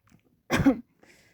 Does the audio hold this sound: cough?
yes